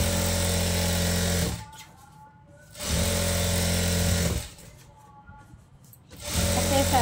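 A sewing machine stitches a silk skirt blouse in three bursts separated by short pauses, its whirring motor steady and close while stitching.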